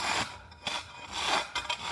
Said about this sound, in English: It's all had to be scraped with the metal.